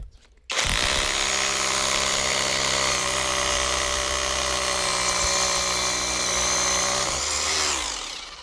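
A cordless Leader rotary hammer drills with a 22 mm bit, a loud, steady whirring hammer drone that starts abruptly and runs for about seven seconds close to the microphone before winding down.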